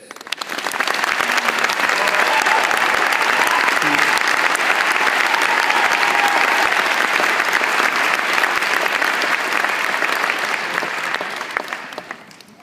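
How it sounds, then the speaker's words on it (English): A large audience at a university health sciences graduation ceremony applauds the teaching staff, sustained and loud with dense clapping that rises quickly, holds for about ten seconds and then tapers off. "I ask you to join me in applauding their contribution to your success."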